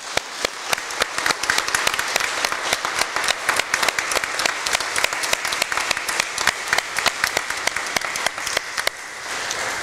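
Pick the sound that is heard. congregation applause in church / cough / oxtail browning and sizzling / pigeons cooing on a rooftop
congregation applause in church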